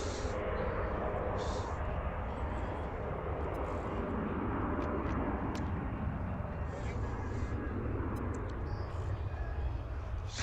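A jet departs from the runway at Washington DCA airport. Its broadband engine roar stays steady and loud throughout, with faint radio chatter and voices on top.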